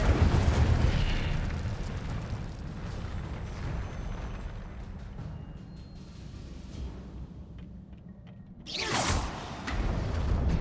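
Fire spell burst cast in Hogwarts Legacy, a loud roaring rumble with whooshing fiery crackle that fades midway, then a second sharp whooshing blast near the end, no talk.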